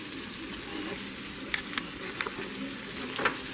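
Venison backstrap coated in seasoned flour sizzles steadily in a pan over medium heat, a continuous close frying hiss with a few brief pops and crackles rising above it, no voices.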